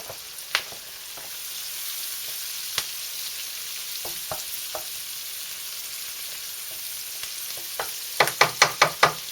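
Food sizzles and crackles steadily in a pan, a soft, constant frying hiss broken by scattered pops and clicks, ending in a quick run of sharper taps as the food is stirred, with no talking.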